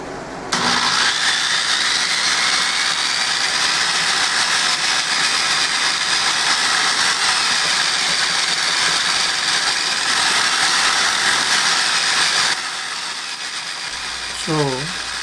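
Steady, loud grinding of a cement sphere at 500 grit, a continuous rough abrasive roar that runs unbroken for about twelve seconds before cutting out to near quiet.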